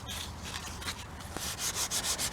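Hand sanding with 400 grit abrasive on a beam during maintenance, heard as close, rhythmic rasping strokes that quicken and grow brighter toward the end.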